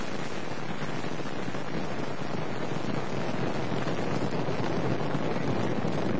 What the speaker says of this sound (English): And we have liftoff of an ILS Proton rocket on the Baikonur Cosmodrome in Kazakhstan, carrying the AsiaSat-5 communications satellite.